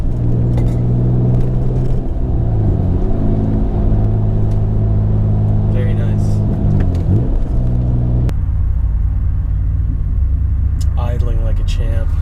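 Mitsubishi Pajero fitted with a full exhaust and throttle body mod idles steadily, a loud low rumble running throughout with a brief change in tone partway through.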